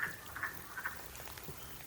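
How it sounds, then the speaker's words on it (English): A wood frog call played back through a frog identification app: several short, clucking croaks in an uneven rhythm, heard faintly over a soft background hiss. "That's a wood frog"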